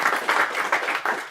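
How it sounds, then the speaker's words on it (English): Audience claps at a live novice competition event held indoors, a brief steady burst of applause from a modest crowd, fairly close and without talk. "another round of applause"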